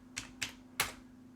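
Three distinct clicks of keys being typed on a computer keyboard, spaced irregularly, close and fairly quiet over a faint steady electrical hum.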